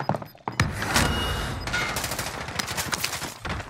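Rapid gunfire bursts from a shooter video game, loud and dense, with overlapping shots rattling almost continuously and a brief lull partway through.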